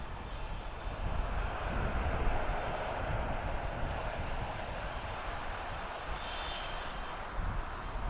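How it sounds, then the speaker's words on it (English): An American Airlines jet taking off from the east side at DFW, heard as a steady, broad engine roar that stays fairly constant for the whole stretch with no voices over it. "That's an American Airlines flight. That's taking off from the east side."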